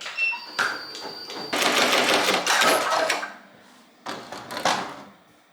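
A Ricoma MT1501 embroidery machine stitches a hat at speed 630 with a fast mechanical clatter. It runs in two bursts, a long one and a shorter one, separated by brief pauses, close by with no talking.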